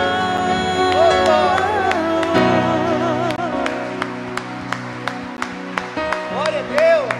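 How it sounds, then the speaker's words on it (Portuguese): A church congregation claps along during a worship service, with sharp, evenly spaced claps under sustained music and a singing voice. "Você pode aplaudir esse Deus bem forte"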